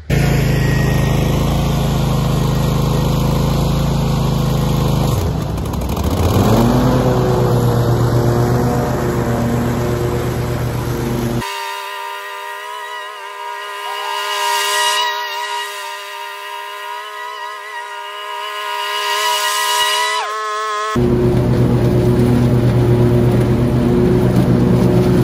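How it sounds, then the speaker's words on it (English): A Toro TimeCutter zero-turn mower on solid no-flat tires drives along with a steady, loud engine drone; its tone shifts for a stretch midway, then returns, with no talking. "I'm gonna do some figure eights with the mower right here"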